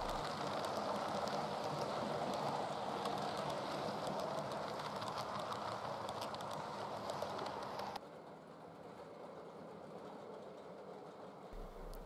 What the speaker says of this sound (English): An A1 takes the Northumbrian northwards.